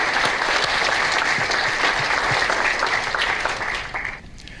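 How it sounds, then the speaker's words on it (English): A keynote audience claps in sustained, dense applause that stays loud and even for several seconds before tapering off at the end, with no voices over it. "Would you please give a round of applause to Judy and yourselves?"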